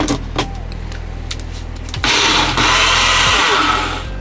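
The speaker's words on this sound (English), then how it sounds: "Let's plug in the blender, and let's blend this bad boy." A countertop blender whirs as it purees chipotle sauce, starting with a lower motor hum and then surging into a louder, harsher grind partway through, with no talking.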